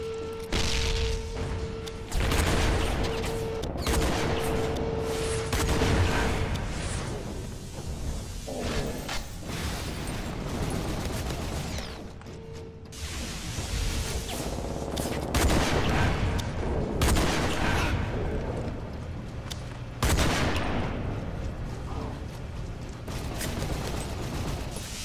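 Lockon AR assault rifle fire in a video game: repeated close bursts of automatic gunfire with brief pauses, loud and sharp, mixed with mechanical clicks and whooshes.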